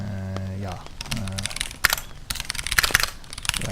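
Fingers type text on a computer keyboard while editing in Vim, producing quick, close clicking keystrokes in irregular bursts, with a brief voice-like tone near the start.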